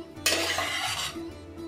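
A spoon scrapes and clinks through chana dal with water, salt, turmeric and oil in a pressure cooker pot, one short metallic swish lasting under a second over faint background music.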